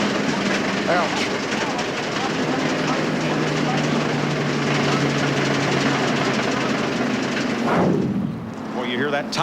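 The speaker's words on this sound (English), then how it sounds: "you hear that tire flailing against the fenders" A NASCAR Winston Cup race car at Daytona International Speedway with a cut tire flailing against its fenders, a loud continuous roaring rumble with rhythmic flapping under engine noise, fading near the end.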